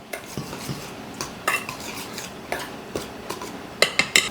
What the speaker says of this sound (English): Then I am going to add in lots of cinnamon. I'm going to give it a little whisk.